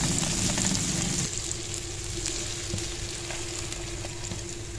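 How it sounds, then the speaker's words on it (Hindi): Spices and red chillies for an achari daal tadka sizzle in hot oil, a loud close crackling fry that flares at the start and then settles into a steady hiss, with no talking. "क्या ज़बरदस्त जो है इसका तड़का रेडी हो रहा है"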